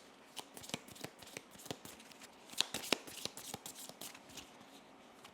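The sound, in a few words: card shuffling in the video game Slay the Spire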